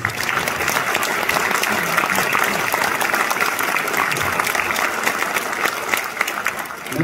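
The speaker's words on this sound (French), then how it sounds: "Vous pouvez les applaudir" Audience at a French National Order of Merit ceremony applauding the honoree's family seated in the front row, loud sustained clapping from a crowd with faint voices mixed in.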